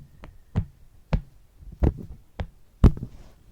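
A dinosaur fidget toy gives about six sharp clicks or taps at irregular intervals, close and fairly loud, with quiet gaps between them and no speech.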